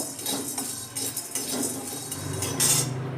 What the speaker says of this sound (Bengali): ছোটো এলাচটা দিয়েও কিন্তু ভালো করে নেড়ে নেব